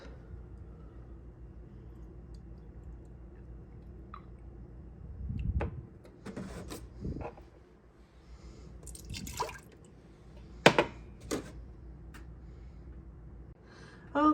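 Milk is poured into glass jars for a Miro yogurt maker: faint, intermittent trickles and drips with a few soft clinks, spread across a quiet stretch.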